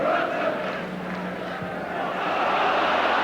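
Chelsea football crowd in a stadium in 1980, a steady broad roar of many voices with a low hum beneath, continuous and fairly loud throughout.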